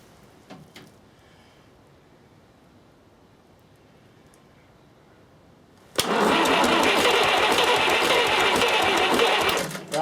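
A starter motor cranks the diesel engine of a 70-year-old International 275 tractor, loud and steady from about six seconds onward after a quiet stretch with a few faint clicks.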